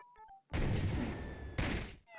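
A cannon in The Secret of Monkey Island fires as a loud, sustained blast lasting over a second, followed by a second booming burst that fades out, standing alone without talk.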